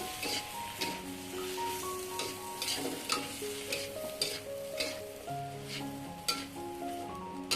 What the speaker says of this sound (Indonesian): ini kita tumis kembali sampai eh, sawinya sedikit layu